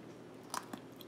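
Someone bites into and chews a crunchy chocolate-covered macadamia nut, a few quiet close crunches standing out over faint room noise.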